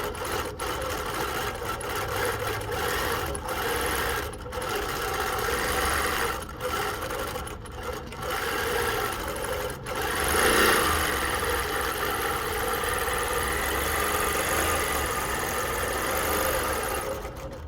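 A sewing machine doing free motion quilting runs in a steady fast mechanical hum and clatter, close and continuous, with a few brief pauses and restarts throughout.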